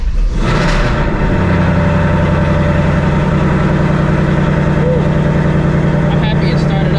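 A Ford S650 Mustang GT V8 catches and settles into a loud, rumbling idle after a cold start, holding steady and close.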